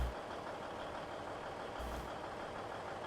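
A Kamaz truck in the Farming Simulator 15 video game rumbles along with a loud, dense engine and road roar, then gives a short hiss and thump as its air brakes bring it to a stop; no talking.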